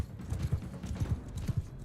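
A horse gallops at full speed in Mount & Blade II: Bannerlord. Its hooves beat in steady, close, paired thuds with no voices over them.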